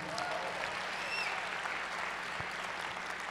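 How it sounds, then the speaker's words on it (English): A conference session audience at SXSW Interactive 2014 applauds an interpreter, giving dense, even applause that holds steady for several seconds at moderate distance, with no talking over it. "Let's give, for the interpreter, a round of applause, please."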